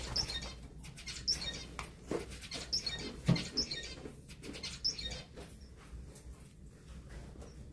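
Small pet birds, young ones perching together, give soft, high chirps roughly every half second over a faint scratchy patter, quiet and close, with no talk.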